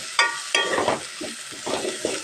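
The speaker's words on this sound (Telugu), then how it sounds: "పోపులో వేసుకుంటే బాగా మగ్గిపోవాలి. ఇలా నూనెలో బాగా ఉడకాలి." Washed brinjals hiss and sputter as they fry in hot tempering oil for a tamarind-style pulusu, a close, bright sizzle swelling with each stir in a few uneven bursts, alone without voices.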